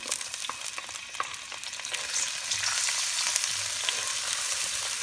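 Garlic frying in a warm pan for pancit bihon guisado, a steady close sizzle that grows slightly louder and denser after a couple of seconds, with occasional light stirring scrapes and no talk.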